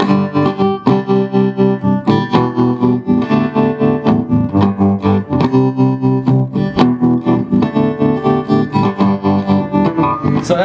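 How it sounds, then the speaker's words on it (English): Electric guitar played through a warm, slightly overdriven 1966 Fender Vibro Champ tube amplifier, steady strummed chords with a rhythmic pulse, loud and close, without voices. "It's a really nice vintage amp."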